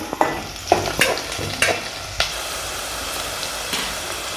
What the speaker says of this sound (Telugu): ఉల్లిగడ్డ పచ్చిమిర్చి అయితే మంచిగా వేగాయి నూనెలో